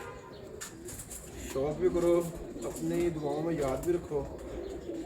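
Pigeons kept by a pigeon fancier coo in soft, repeated rolling calls, close by but partly under someone talking throughout, with a few brief chirps mixed in.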